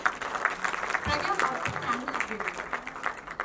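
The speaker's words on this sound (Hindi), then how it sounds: "प्लीज जोरदार तालियां हो जाएं।" An audience at a music video launch event in a PVR Cinemas hall claps in a brisk, crackling burst throughout. Voices and cheers mix in with the clapping.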